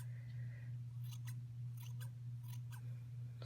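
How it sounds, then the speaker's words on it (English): Sharp fabric scissors snip at a yarn pom-pom in several quick, crisp cuts, close and fairly quiet over a steady low hum. "nice to have very sharp scissors for this job"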